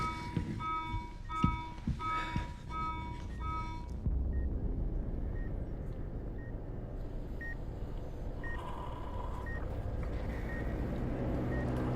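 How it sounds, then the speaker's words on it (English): Repeated electronic beeping in a video game care center, a steady pattern of short tones recurring at regular intervals over a low ambient hum, faint and alone after an earlier stretch of busier sound. "I'm not sure where the beeping is coming from"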